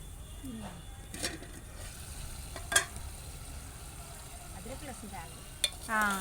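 A spoon stirs chicken curry in a home kitchen pan, with a few soft scrapes and knocks over a quiet sizzle and a faint background hum.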